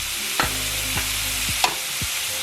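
Onion, bok choy and cabbage are stir-fried over high heat in a hot pan already seasoned with soy sauce, scallion and garlic for jjamppong pasta. A steady close sizzle carries four sharp scraping strokes about half a second apart, with no voices.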